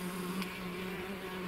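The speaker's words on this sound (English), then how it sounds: "Here's the queen bee going around and about doing her duties" A queen tree bumblebee buzzing around her nest in spring, a close, steady droning hum that holds on evenly with no talking.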